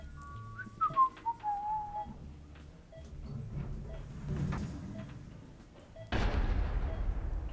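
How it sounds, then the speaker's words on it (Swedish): A sudden loud explosion in the video game Lucius 2 bursts in near the end and rumbles on steadily, after a thin whistling tone and some scattered quieter game noises. "Det var en explosion."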